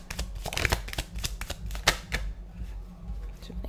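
Tarot cards shuffled at close range in short, irregular bursts of crisp riffling clicks and slaps, busy for a few seconds then thinning out, with no talking.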